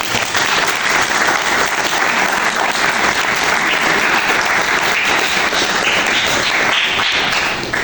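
Sustained, dense applause from an audience at a book presentation in Arequipa, loud and steady throughout with no break.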